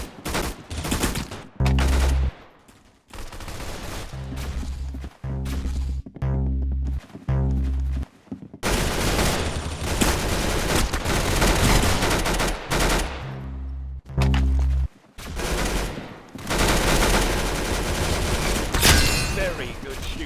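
Rapid bursts of automatic gunfire and single shots ring out in a video game, loud and close, broken by short silences, with a voice talking over parts of it.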